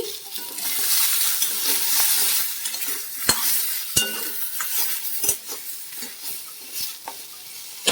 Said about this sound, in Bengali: পটল আলুর তরকারিগুলো ভেজে নিচ্ছি